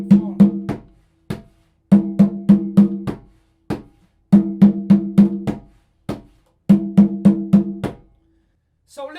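Percussion playing a rhythm-cell pattern with tones and accents, samba reggae style: four repeated phrases of several sharp, resonant drum strikes each, separated by short gaps, close and loud with no voices.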